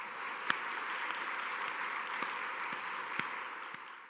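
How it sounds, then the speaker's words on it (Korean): A congregation applauds during a Sunday church service, a steady mass of clapping that holds evenly for several seconds, with a few sharper single claps standing out. "모든 영광을 하나님께 박수로 올려드리겠습니다"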